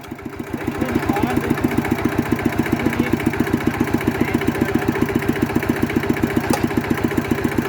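A walk-behind tractor engine idles close by with a steady, rapid thudding pulse after a short rev at the start, loud and continuous, with a voice partly under it.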